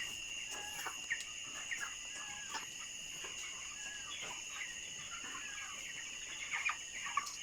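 Broiler chickens at 28 days old, around 2 kg each, cluck softly in a farm house at night, a steady low murmur of many birds with scattered calls over a constant high insect-like drone.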